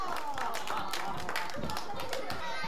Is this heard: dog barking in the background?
no